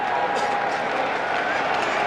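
A huge crowd of over 52,000 at Toronto's SkyDome during Game 5 of the 1992 World Series, Braves at Blue Jays, keeps up a continuous roar of murmur and cheering under a broadcaster's voice.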